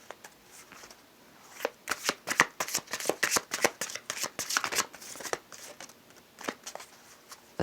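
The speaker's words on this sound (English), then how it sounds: "Let's get 2 cards, please, for duality." A deck of tarot cards is shuffled close by, with quick, uneven runs of soft slapping and flicking as the cards are cut and mixed by hand, fairly quiet and continuous.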